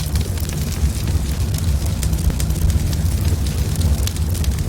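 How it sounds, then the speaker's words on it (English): Fire spreads in Garry's Mod under a realistic fire mod, making a loud, continuous roar and crackle that stays steady throughout. "I also got the realistic fire mod, which allows fire to spread"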